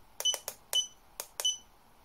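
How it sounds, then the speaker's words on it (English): A handheld laser distance meter, Huepar LM100A, emits a series of short, sharp electronic beeps in uneven clusters, fairly close and clear against a quiet background. "Presumably long press will cancel the beeping."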